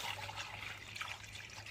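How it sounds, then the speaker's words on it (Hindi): Water trickling through a mesh screen into a farm machine in a village field, a faint, steady dribble with a low hum underneath, running alone without talk. "तो इस जाली से पानी छन के जाता है अंदर।"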